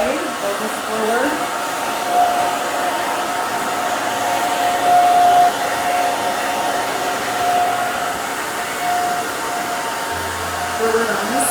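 A hair dryer blows steadily and loudly at close range while styling short, spiky hair, its constant whooshing airflow broken only by slight shifts as it moves.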